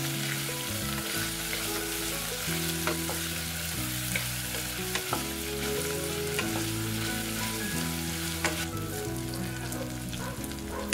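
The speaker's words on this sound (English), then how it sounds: "Let it cook for 5 minutes or wait until the onions are soft." Onions fry in a pan for corn cauliflower soup, a close, continuous sizzle with occasional stirring scrapes, steady and fairly quiet throughout.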